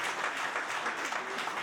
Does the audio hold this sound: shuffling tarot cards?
no